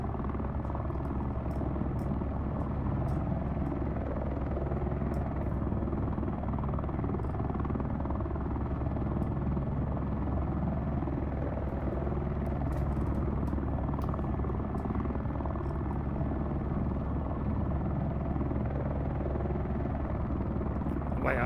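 A helicopter in a flight simulator game, flying a deer recovery with a hooked line, gives off a steady, continuous rotor and engine drone at moderate level for the whole stretch.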